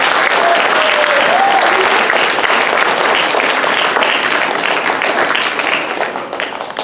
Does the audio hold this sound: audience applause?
yes